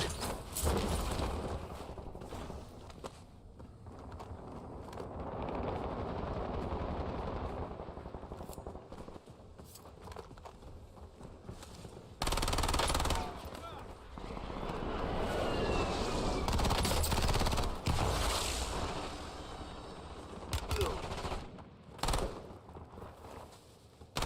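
Warzone gunfire, with dense bursts of automatic shots and scattered rounds crackling through nearly half a minute of continuous battle noise, loudest in the middle and again near the end.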